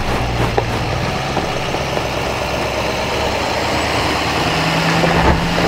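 A 2023 GMC Sierra 2500 Duramax 4x4 diesel pickup climbing a steep off-road hill test slope in two-wheel drive, a loud, steady low engine roar under heavy throttle that holds constant throughout.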